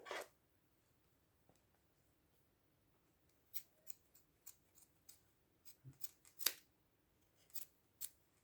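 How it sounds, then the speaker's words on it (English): Quiet, close snips of long scissors cutting yarn for a crochet baby blanket pompom border, one crisp cut at the start then a rapid cluster of about a dozen small snips, faint and isolated. "And now we need to cut"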